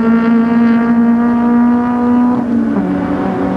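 A 1999 Mirage Cup race car at Bathurst roars loudly and close, its engine note holding steady then dropping sharply as it brakes hard into Murray's corner, with a commentator talking over the top.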